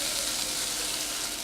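Water poured into a pan of peas, potato and brinjal sabzi cooking on low flame, giving a steady, dense sizzle and hiss that stays even and close throughout, with no talk.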